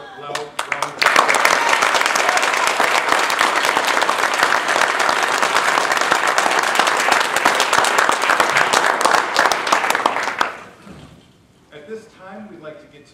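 Loud, sustained audience applause fills a Toastmasters district speech contest hall, honoring the international speech contestants, steady for about ten seconds before fading out into quieter room noise and murmuring.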